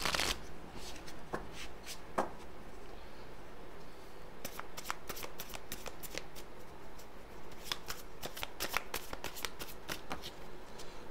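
A deck of playing cards being shuffled close by, with rapid riffling bursts and sharp snaps of cards recurring throughout, no talking.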